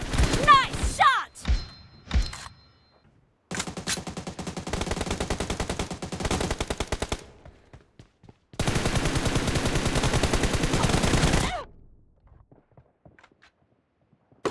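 Video game gunfire in a team match erupts in two long sustained automatic bursts, loud and dense, separated by quieter gaps with scattered thuds and a short opening flurry of shots.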